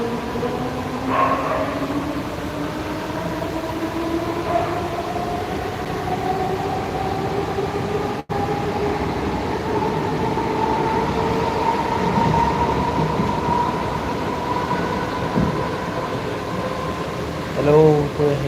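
Inside a moving, empty train at night: a steady rumble and drone of wheels and carriage, with rising and falling tonal whine and occasional clanks, continuous throughout.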